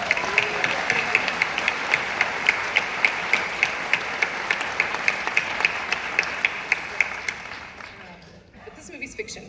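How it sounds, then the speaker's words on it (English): Audience at the 2020 Sundance Film Festival screening of Shirley applauds steadily, with dense clapping and sharp periodic accents, before the applause fades out near the end. "start this film off with a round of applause for the real Shirley Jackson"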